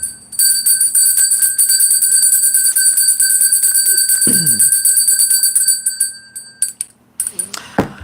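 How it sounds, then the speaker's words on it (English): A bright metal bell rings rapidly and loudly for several seconds with a sustained, shimmering tone, then trails off into a few scattered strikes, with a short burst of voice partway through. "I'm just going to ring that bell."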